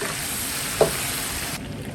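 Duck pieces stir-frying in a wok with ginger and chili, a continuous sizzle with one brief clack of the spatula partway through, then the frying noise drops lower.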